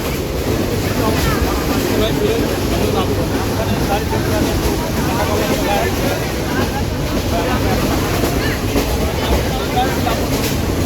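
Steady, loud rumbling and rattling of a moving passenger train near Rajshahi, Bangladesh, heard from inside a carriage, a continuous low roar that never lets up.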